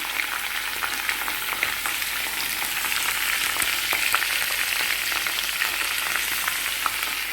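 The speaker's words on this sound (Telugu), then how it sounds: "నూనె వేడెక్కింది పచ్చిమిరపకాయలు వేసుకున్నాం అలాగే టమాటాలు తర్వాత అన్నీ కూడా చక్కగా మగ్గనిద్దాం నూనెలో మగ్గితే బాగుంటుందండి" Green chillies and tomatoes fry in hot oil, a loud, steady sizzle and crackle close up with scattered pops and no voices.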